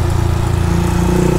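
Honda Start 160 motorcycle fitted with a sport exhaust, its engine running steadily and loudly up close with a low, throbbing, continuous tone and no pauses.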